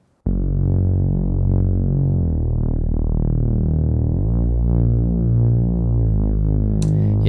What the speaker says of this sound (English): I changed the bass into this one of the Reese bass